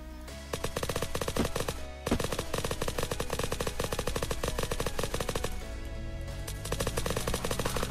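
Loud automatic gunfire from a player's gun in the survival game Unturned during a PvP fight, a long rapid stream of close shots with one short pause, no voices over it.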